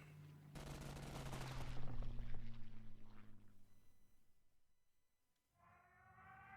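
Daylight bombing card attack in the WWII card game KARDS, with a sudden burst of rapid gunfire and rumbling explosions that swell, then fade away, followed by a brief higher whirring tone.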